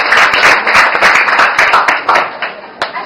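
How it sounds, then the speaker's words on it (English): Students clap and applaud together in a classroom after a class debate, a dense, loud burst that carries on steadily for a few seconds, with voices mixed into it. "So let's give a round of applause to your very active."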